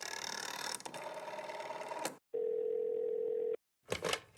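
A telephone dial tone hums steadily for about a second after a stretch of noisy background, then cuts off, followed by a brief burst of noise as the call connects.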